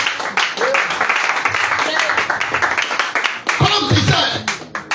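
Congregation clapping in rhythm during an Ivorian revival church worship service in Ayamé, steady dense hand claps running throughout with voices and singing mixed in.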